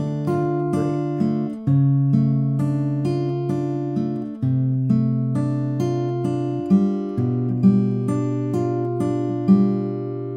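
Fingerpicked acoustic guitar plays the opening line of a song, with clear, ringing arpeggiated notes moving across the strings in a steady, unhurried rhythm, close and alone.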